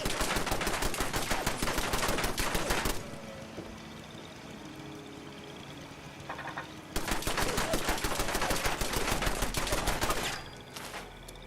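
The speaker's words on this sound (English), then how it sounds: "Why are you shooting my gate" Bursts of rapid automatic gunfire from the game Fallout 76 strike a gate, two long dense volleys loud and close with a quieter pause between them.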